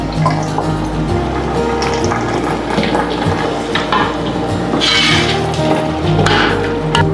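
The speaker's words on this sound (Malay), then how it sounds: "kita masukkan santan" Coconut milk pours into a pot of beef rendang kuning, a steady liquid splash and trickle with faint clinks of the pot, close and fairly loud over a low background hum.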